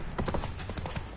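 Roach, a horse in The Witcher video game, gallops in a quick run of rhythmic hoofbeats that stays steady and fairly loud for just over a second.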